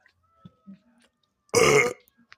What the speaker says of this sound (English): I have a burp coming up, so if you guys want to hear that